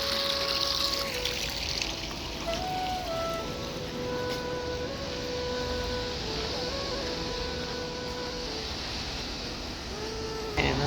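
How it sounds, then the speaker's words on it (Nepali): Water trickles and splashes steadily from a street fountain in South Korea, a continuous wet patter with faint background hum from the street and no talking. "यस्तो पानी निस्किरहेको"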